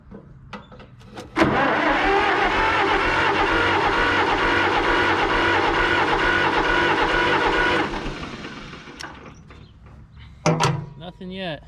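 A 1949 John Deere MC crawler that sat for 20 years is cranked with starting fluid, giving a loud steady churning starter drone for about six seconds that fades without catching, with clunks and brief talk around it.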